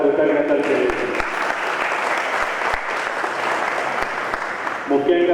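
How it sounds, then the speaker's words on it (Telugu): Sustained audience applause at an anti-tobacco day gathering in a cancer hospital in Nizamabad, steady and dense for several seconds, with a brief voice at the start and end. "చప్పట్ల ద్వారా కృతజ్ఞతలు తెలియజేస్తున్నాం"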